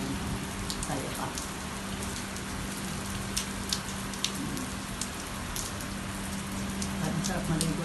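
Heavy rain pouring down in Doha, a dense, constant roar of drops hammering surfaces with scattered sharper splashes and a low steady hum underneath, sustained the whole time.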